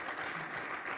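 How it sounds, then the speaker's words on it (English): Panel audience in Berlin clapping briefly, a dense wash of many hands at even loudness throughout the short burst, with no talk on top. "Big applause again."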